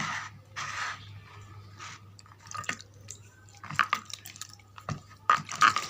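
Water splashes and drips in short irregular bursts as a skin-whitening paste is rinsed off a neck, with small wet splatters scattered through and louder toward the end, no talking.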